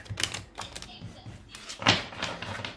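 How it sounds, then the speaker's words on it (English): Cards are shuffled with rapid papery riffles and flicks, close and crisp, in two main bursts. "Sorry about all the shuffling."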